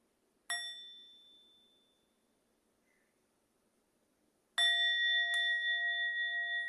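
A meditation bell sounded twice. The first strike rings out clear and fades slowly into near silence, then a second, louder strike sustains with a gently pulsing resonance.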